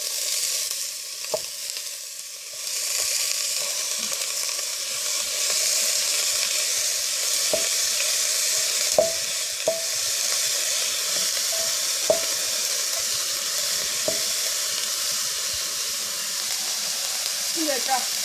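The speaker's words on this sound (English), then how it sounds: "So I'm adding my onions." Onions sizzle and fry in hot olive oil in a pan for a steady, close, continuous crackle, with a few sharper pops and stirring scrapes along the way and no talking.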